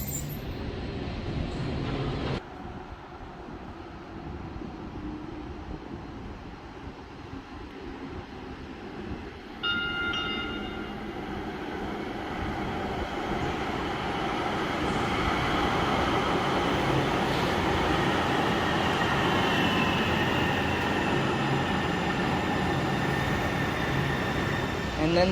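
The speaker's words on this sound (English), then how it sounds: "And then the metro deposits us right here in beautiful downtown Seattle." Seattle metro train rolling into downtown, a low rumble that steadily grows louder and fuller, a brief tonal squeal near the midpoint, then a sustained near roar of the cars.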